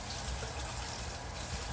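Steady rush of tap water running into a sink, continuous and fairly close, with no voices.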